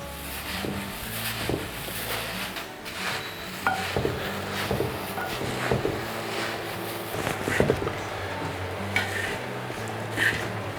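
Flattened rice (aval) being stirred through a pan for sweet aval vilayichathu, a steady scraping and clinking of spoon against metal with soft rustling, close and continuous throughout.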